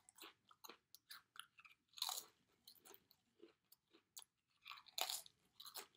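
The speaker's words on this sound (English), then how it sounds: "So I'm just gonna eat a lot of Pringles tonight." Pringles potato chips are bitten and chewed up close, with sharp crisp crunches in uneven bursts and quieter chewing between them, no talk.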